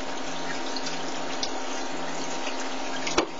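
Continuous rushing of water flowing through the cooling tubes of a Makergear RepRap Prusa 3D printer, steady and close, with a faint click near the end.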